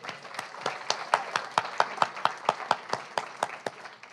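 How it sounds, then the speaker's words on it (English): A small audience at a poetry reading claps with a few loud, rhythmic, evenly spaced claps standing out over softer scattered applause, steady and close. "One more big round of applause for Saretta Morgan."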